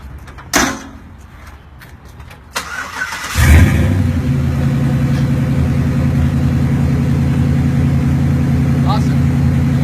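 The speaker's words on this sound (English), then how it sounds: "Well, I was gonna say you can rev it out for him." An LS3 V8 crate engine in an off-road build cranks and catches after a door thump, then settles into a loud, steady, rumbling idle close by, with light clicks early on.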